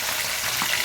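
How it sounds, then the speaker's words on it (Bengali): Three pomfret fish frying in oil in a pan, a steady close hiss of sizzling throughout with a brief bubbling surge near the end, no voices. "মাছগুলো আমার সব ভাজা হয়ে গেছে"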